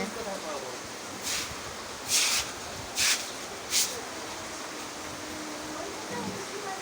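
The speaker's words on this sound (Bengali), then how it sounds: "এদিকে তো প্রচুর পানি পড়ছে একবার গদ করে বৃষ্টি হচ্ছে" Heavy rain pouring down at a village house, with water running in: a constant dense rushing hiss broken by a few louder splashing bursts.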